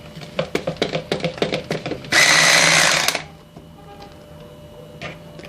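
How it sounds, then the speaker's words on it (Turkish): Someone whips cake batter for a turmeric cake with an electric hand mixer. A run of quick rhythmic taps comes first, then the motor whirs loudly and steadily for about a second before it cuts off, leaving quiet kitchen background. "Mikserle tekrar çırpmaya başlayalım."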